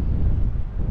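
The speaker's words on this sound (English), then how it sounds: "It's a bit windy." Wind buffets the microphone in steady low rumbling gusts on a coastal walk from Birżebbuġa to Marsaxlokk in Malta, loud and continuous with no talking.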